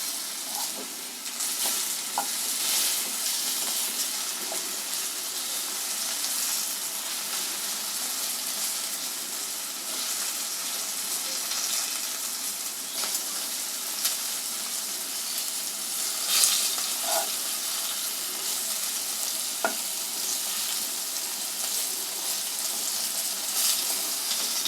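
Stuffed okra (bhindi) frying over low heat in a pan, giving a steady, even sizzle that holds for the whole stretch with a few faint clinks and stirring scrapes, and no voices.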